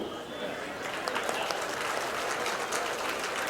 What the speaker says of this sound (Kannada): ಆದರೆ ಇದಕ್ಕೆ ಚಪ್ಪಾಳೆ ತಟ್ಟಬೇಕು